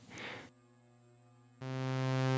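A Donner L-1 synthesizer plays sustained ambient drone tones through a big reverb, with a slow-attack patch. A first steady harmonic note holds, then a second, fuller and louder note enters and swells on its own.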